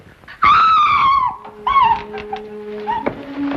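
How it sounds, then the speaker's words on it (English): A woman's scream in a 1954 Sherlock Holmes drama, a loud, sustained high cry followed by a second shorter shriek, with a faint low hum and a thud near the end. "She screamed."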